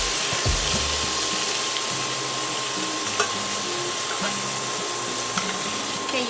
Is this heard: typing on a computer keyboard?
no